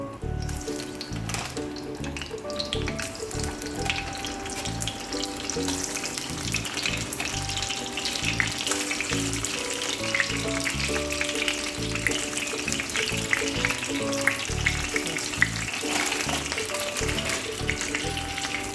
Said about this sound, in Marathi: म्हणजे रूम टेम्परेचरला न आणता डायरेक्ट फ्रोझन तव्यावर टाकायचे, जास्त तेल टाकून.